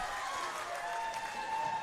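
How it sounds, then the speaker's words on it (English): A crowd at an under-17 interstate men's netball championship match between WA and Vic claps and cheers in a sustained, fairly distant roar, with faint commentary underneath. "The crowd goes wild for that one."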